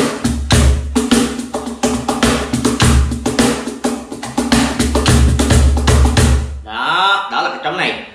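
A cajon with an imported wood front is struck in a fast run of sharp, dry slaps and deep bass thumps at close range. A voice speaks briefly once the playing stops.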